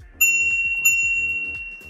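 E-bike handlebar bell, two sharp metallic dings in quick succession with a sustained ringing tone that decays slowly, close and clear.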